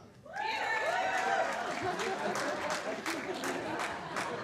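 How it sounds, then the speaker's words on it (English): Wedding reception guests break into lively applause with whoops and cheering over a crowd, the clapping dense and sustained throughout with voices rising in the mix. "Single people, let me hear you clap."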